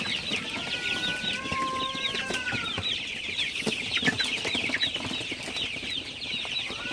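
Sonali super hybrid chickens cluck and murmur at night in their shed, a busy mix of soft clucks, short calls and occasional wing rustles with no talking.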